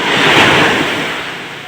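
Surf washes up onto a beach in a short, loud, breathy swell that fades out, with a boat nearby and no voices.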